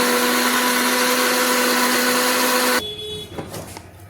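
A mixer grinder purees capsicum seeds with salt into a paste without water, its motor giving a loud steady whine that cuts off abruptly, followed by rattling of the jar.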